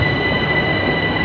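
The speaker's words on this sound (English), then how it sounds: "The train slowed down and then it picked up speed." Train rumbling past at Clapham Junction, a steady loud rolling roar with a high metallic wheel tone held throughout, no voices.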